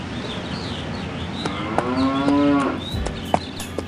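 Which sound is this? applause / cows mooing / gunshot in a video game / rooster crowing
cows mooing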